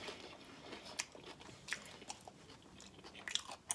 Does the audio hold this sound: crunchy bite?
yes